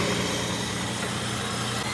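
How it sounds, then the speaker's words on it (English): A Nissan Pathfinder 3.5L engine idles after an oil-leak repair, giving a steady low rumble with broad mechanical noise over a constant drone, close and fairly loud with no voices. "you have to keep the engine running for about 20 minutes"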